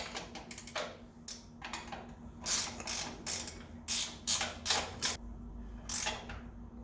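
A ratchet snugs a lock nut with washer onto a spindle of an IMCA modified race car, giving bursts of rapid clicking strokes in a quiet shop, close and moderately loud, with no talking.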